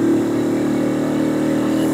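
A motorcycle engine labors steadily as the bike climbs uphill, a continuous mid-pitched drone with a low rumble that holds close and loud throughout, with no talking over it.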